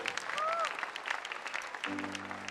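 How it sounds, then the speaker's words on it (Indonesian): Audience applause for a Betawi cultural show on Indonesian television, a dense burst of steady clapping that is fairly loud and close. Some voices mix in, and a sustained musical tone joins near the end. "Boleh tepuk tangan deh buat balai Betawi."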